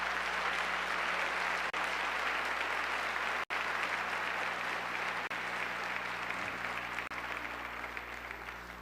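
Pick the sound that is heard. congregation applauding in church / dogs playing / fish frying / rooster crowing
congregation applauding in church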